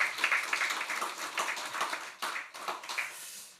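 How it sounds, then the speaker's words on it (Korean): Applause for a church choir during a Korean Sunday worship service, a steady wash of many hands clapping in a large room, continuing for several seconds before tapering off. "우리 다시 한번 격려하며 박수하겠습니다"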